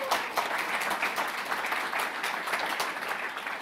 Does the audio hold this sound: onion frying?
no